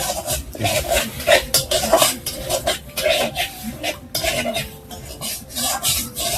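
Semolina is stirred and fried in a pan, making rhythmic scraping and rasping strokes of a spoon against the metal, repeated quickly and close up with a soft sizzle beneath.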